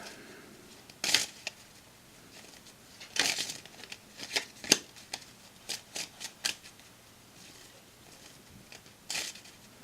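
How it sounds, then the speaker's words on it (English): Shuffling of a World of Warcraft trading card deck: a series of sharp, papery riffle bursts and crisp card flicks spaced irregularly, close and fairly quiet, with no talking. "Shuffle your deck."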